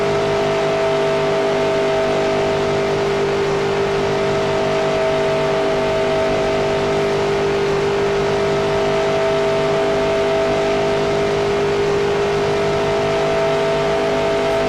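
A race car engine screams at full speed down the back straightaway at Daytona in NASCAR Racing 2003, a steady, loud, high-pitched drone holding constant throughout, with no speech.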